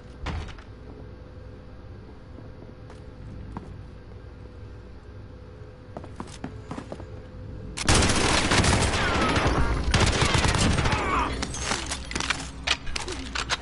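Video game gunfire: scattered shots and clatter at first, then a sudden loud sustained volley of rapid gunshots breaking out about halfway through and continuing with bursts.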